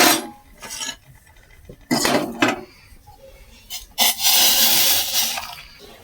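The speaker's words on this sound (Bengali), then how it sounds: "চাটা আমি 2 মিনিট মতো ফুটিয়ে নিয়েছি। এবার ছেঁকে নেব।" Tea boiled with ginger, sugar and black pepper is strained from a pan, giving bursts of metal clinks and scrapes with liquid pouring in between, close by and without talk.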